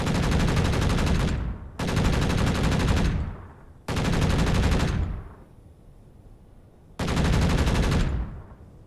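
CIWS turret in a Space Engineers game mod firing continuously in long loud bursts of rapid automatic gunfire, each ending with a short decaying tail before the next burst starts.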